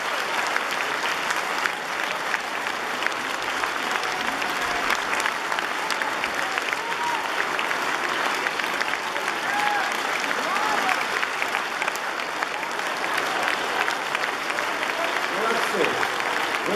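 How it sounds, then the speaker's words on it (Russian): Concert hall audience giving enthusiastic, steady applause after a piano ensemble performance of a polka, a continuous dense wash of clapping with no break, with voices faintly underneath. "вам такие бурные аплодисменты"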